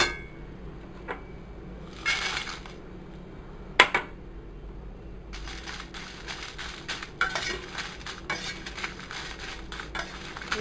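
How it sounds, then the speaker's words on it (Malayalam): Dry red chillies being roasted in a pan for idli podi, with metal spoon scrapes, clinks and stirring clatter against the pan, near and intermittent, with a faint sizzle beneath and no talk. "ഇപ്പോൾ റെഡ് ചില്ലി വറുത്തെടുക്കാം."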